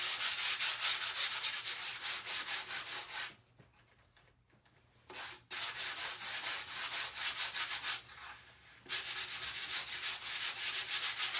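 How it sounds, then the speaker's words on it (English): Sandpaper rubs back and forth over a painted wooden door hanger decorated with a highland cow and a crackle patina background. The close, rhythmic scratchy strokes pause twice before starting again. "I am going to sand over it one more time"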